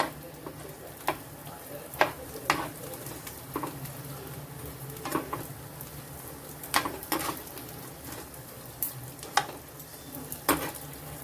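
Edible gum (dink) puffing as it fries in hot fat in a pan, heard as a steady soft sizzle broken by scattered sharp pops and crackles, with occasional light stirring scrapes.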